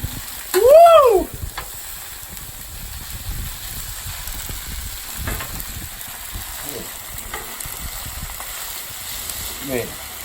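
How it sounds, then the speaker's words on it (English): A big Blackstone griddle loaded with stir-fry sizzles steadily and close up, with scraping and stirring noises throughout and a voice briefly over the cooking. "Big old griddle filled with stir fry."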